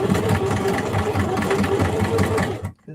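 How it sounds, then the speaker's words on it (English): A sewing machine stitches a label onto a denim tote bag, a steady close mechanical whir with a fast needle rhythm running continuously before stopping abruptly near the end. "I'm just going to sew this down so that I can get this label sewn down."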